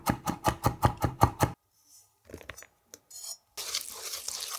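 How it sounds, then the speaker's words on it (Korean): Sauce of chili flakes, sugar, oligosaccharide syrup, vinegar and minced garlic mixed in a bowl: a quick series of sharp clinking taps from a utensil against the dish, then quieter scraping stirs and a soft rustle, close and alone. "골고루 섞어 소스를 만들어주세요."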